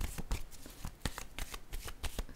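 Tarot cards are shuffled by hand in a quiet room, giving a close, crisp run of riffling and flicking with irregular bursts. No voices are heard.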